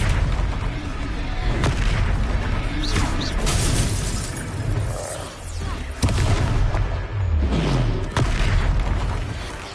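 A spell is cast in a Hogwarts video game duel, sounding as loud booming magical blasts with shattering crashes and swooshing bursts that rise and fall continuously, with no talk over them.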